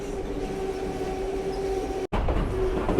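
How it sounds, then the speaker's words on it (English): A White Pass and Yukon Route passenger train in Alaska rumbles steadily along the rails with a faint whine, briefly cutting out before the rolling noise resumes. "a late May trip on the White Pass and Yukon route railway"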